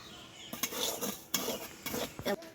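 Black salt dry-roasting in a pan, heard as soft scraping and stirring scuffs with a few light metallic taps, quiet and close with short gaps between strokes.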